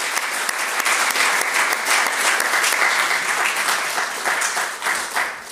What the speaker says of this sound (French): peut-être qu'on peut les applaudir une dernière fois